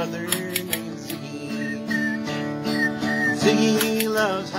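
Clear, melodic whistling at a live bluegrass-style band performance at a distillery, with sustained pitched notes and slides over instrumental accompaniment, loud and close throughout.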